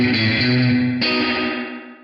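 A guitar amp with reverb fed straight into its input gives out a distorted, washy chord that is struck again halfway through and then fades into a muddy reverb tail.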